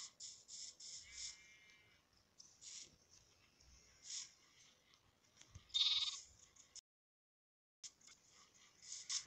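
Several bleats from Minecraft sheep come in a loose series, one louder and closer than the rest, with a brief silent gap before more calls follow.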